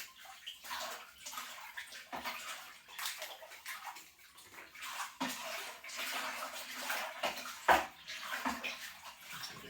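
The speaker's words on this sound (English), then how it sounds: "Give it a good old stir up." Belgian dubbel wort is stirred vigorously in a fermenter on brew day, making continuous close sloshing and swirling liquid noise with occasional knocks and splashes, without any talk.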